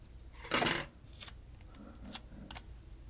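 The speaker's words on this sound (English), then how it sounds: "So I'm going to cut this." Scissors snip through a planner sticker in a short burst of crisp paper-cutting sounds, followed by a few faint rustles and clicks nearby.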